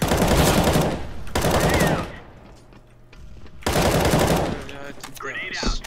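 Loud bursts of automatic gunfire from the video game CS:GO, two long sustained volleys separated by a quieter lull, then a final burst that fades into softer game sounds.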